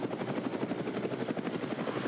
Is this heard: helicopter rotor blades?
yes